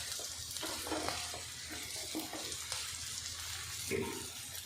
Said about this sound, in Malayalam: ഇളക്കി മറിച്ചൊക്കെ എടുക്കുന്നുണ്ട്